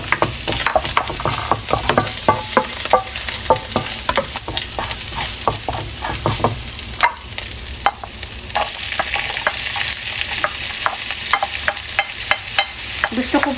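Vegetables for pancit sauté in hot cooking oil, a steady close sizzle broken by frequent sharp clacks of a spatula stirring against the pan, with no voices.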